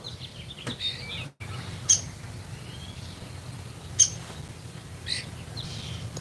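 Birds chirp outdoors on a quiet Tennessee morning, with a few short, sharp calls spaced a second or two apart over a low steady background hum.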